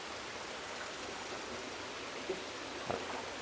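Water rushes steadily through an aquarium hose siphoning debris and mulm from a Malawi cichlid tank at a breeding farm, a constant hiss of flow with a couple of brief soft clicks near the end, no talking.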